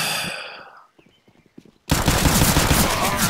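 Pistol gunfire in Counter-Strike: Global Offensive: an early shot, a few faint clicks and taps, then a loud, dense burst of rapid gunfire that fills the rest, close and harsh.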